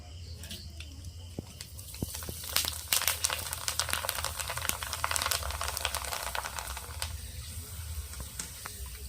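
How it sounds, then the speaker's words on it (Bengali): Rice frying a little at a time in hot white oil inside a strainer set in a kadai, a continuous crackling hiss with fine patter and scattered sharp pops running steadily throughout, close and fairly quiet. "এবার আমি অল্প অল্প চাল দেবো এই ছাঁকনিতে, দিয়ে আমি ভেজে নেব।"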